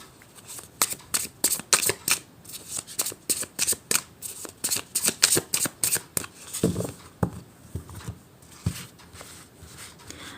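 Tarot cards being shuffled by hand in a quick run of crisp riffles and flicks, each burst sharp and close, pausing briefly toward the end before a few last slaps of the deck; no talking.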